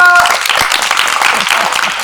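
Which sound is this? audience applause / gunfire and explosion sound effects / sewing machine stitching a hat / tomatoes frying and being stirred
audience applause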